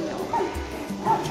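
A dog at an animal rescue gives a couple of short yips and whimpering barks, moderately close, with a person talking over them.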